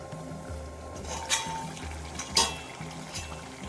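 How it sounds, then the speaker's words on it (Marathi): Garlic crushed on a flat grinding stone: repeated scraping and grinding strokes, irregular and close, with occasional clinks of metal. "आता झाकण काढून पाहतो आलू मटरच्या भाजीवरचं"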